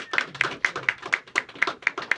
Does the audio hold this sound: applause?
yes